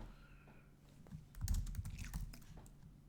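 Rapid keyboard typing on a computer keyboard, a quick burst of clustered keystrokes that swells in the middle and then thins out, close by with no talking.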